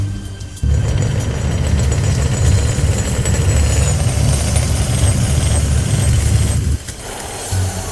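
A lathe spins a gold blank held against a centre, producing a loud continuous low motor rumble that starts abruptly and cuts off near the end, with no talking.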